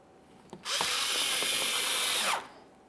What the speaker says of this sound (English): Let's get the screw in this panel as well.